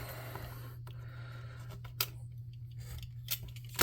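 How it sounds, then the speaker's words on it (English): A dull craft blade cuts through model-making material for a tabletop-game swooper bike, giving a few sparse, sharp scraping cuts over a steady low hum in a quiet room. "Man, is this dull blade? Must be, because it ain't cutting shit."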